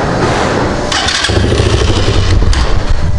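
A KaYo quad bike, a Chinese ATV of 200 or 110 cc, cranks over and catches, its engine bursting into a loud, close, rough idle that holds steady.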